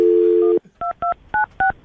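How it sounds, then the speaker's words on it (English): A telephone dial tone cuts off and is followed by four crisp keypad beeps in steady succession as a number is dialed, loud and close with nothing else heard. "We're going to call her right now and then see if we can get her on the phone"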